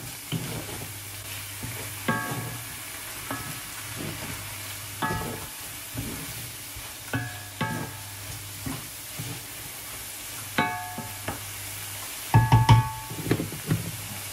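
Stir-frying in a pan with sweet soy sauce: a steady sizzle runs throughout, broken by repeated scraping and stirring clatters of a utensil against the pan, growing louder and busier near the end, with no talking.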